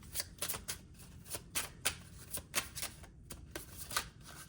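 A deck of tarot cards is shuffled close up, with a quick series of soft riffling and slapping bursts in irregular rhythm, quiet and with no talk.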